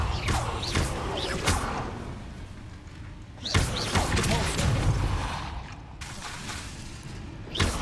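A Confringo blast spell in the video game Hogwarts Legacy: loud thudding bursts with crashing debris, two main impacts a few seconds apart amid ongoing game noise and rumble.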